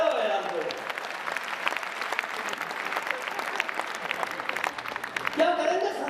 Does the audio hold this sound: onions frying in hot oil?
no